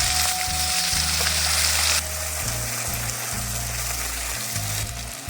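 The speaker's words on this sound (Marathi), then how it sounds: "त्याच्यात आपण फोडणी करून घेऊ" Spices such as mustard seeds and cumin crackle and sizzle in hot oil for a Maharashtrian phodni, a steady loud frying hiss with a sudden shift in intensity partway through and no talking.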